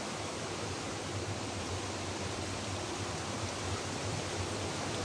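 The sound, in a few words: flowing water of a mountain stream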